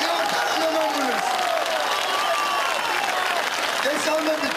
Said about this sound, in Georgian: მოდი ყველამ ერთად მივესალმოთ, ტაშით მივესალმოთ